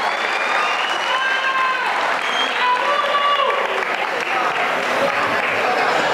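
Crowd applause for the fighters at a boxing-style fight event, a dense steady roar of clapping and cheering with whistles and shouts, loud and continuous throughout.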